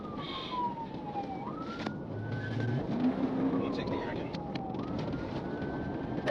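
A police car siren wails in long rising and falling sweeps during a pursuit, over road noise and engine rumble, with a brief low horn blast partway through.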